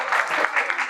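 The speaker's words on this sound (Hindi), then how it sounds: "तो जोरदार तालियां।" Audience applause bursts out at an Indian quiz show, a short, dense patter of clapping from a crowd with no voices over it.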